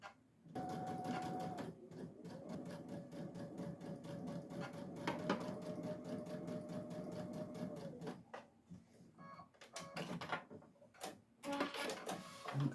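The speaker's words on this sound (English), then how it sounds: "I'm going to stitch down the side" A sewing machine stitches down the side of a 4th of July placemat with a close, steady whir and rapid ticking, pausing briefly near the end before short bursts resume.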